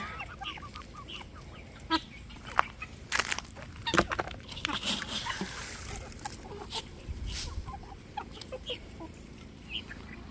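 Backyard chickens peck and scratch at a snack, giving a scattered patter of small taps with soft clucks and rustling up close; no one speaks.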